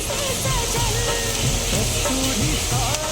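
Chopped garlic sizzles in hot mustard oil for a Bengali egg tadka, a steady, close, crackling fry with soft stirring clinks throughout.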